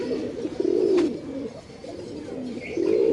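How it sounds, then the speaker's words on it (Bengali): Pigeons, including China Khaki birds, coo repeatedly in a loft, several low throaty calls overlapping close by over a soft background hum. "এখানে কিন্তু অনেক সুন্দর সুন্দর কবুতর আছে"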